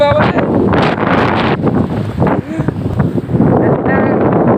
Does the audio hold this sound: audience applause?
no